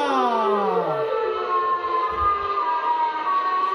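Siren Head's siren wail in a Siren Head versus Light Head shadow fighting game, a loud layered tone whose pitches slide down and then hold steady, with a brief low thump partway through.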